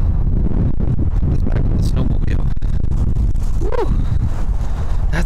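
Gusty wind buffets a windsock-covered road mic beside a BMW GS Rallye motorcycle, a loud, continuous rumbling roar with uneven surges and brief flutters, and a voice briefly audible beneath it.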